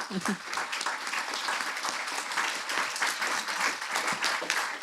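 An audience at a climate change conference in the Pays de Brest claps steadily, with dense, even applause filling a hall.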